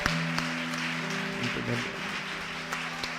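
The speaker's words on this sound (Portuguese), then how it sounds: "Pode aplaudi-lo mais uma vez." A church congregation claps softly for a reverend, the patter quiet and somewhat distant beneath sustained organ-like tones that hold steady throughout.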